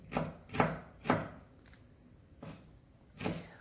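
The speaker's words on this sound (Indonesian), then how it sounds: "di sini ya bawang merahnya juga aku mau iris" A knife slices through about six small shallots on a cutting board, giving five or six distinct, crisp chops at irregular intervals, close and fairly loud, with quiet pauses between strokes and no talking.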